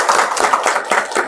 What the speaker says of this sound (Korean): 우리 박수로 환영하십시다.